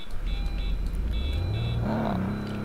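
A Honda Civic in the Roblox game Greenville, its engine note rising and shifting in pitch as the car drives and then slows on its own, with steady game motor hum and no talking.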